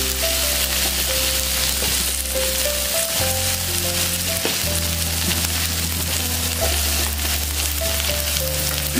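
Onion and tomato sizzle steadily in a hot pan for egg biryani, with a constant frying hiss and occasional stirring scrapes. A low steady hum and faint tonal sounds run underneath.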